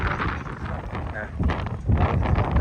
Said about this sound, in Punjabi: ਹਵਾ ਚੱਲਦੀ ਠੰਡੀ